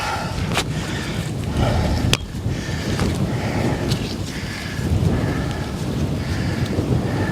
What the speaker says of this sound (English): The wind's blowing. The wind's terrible right now.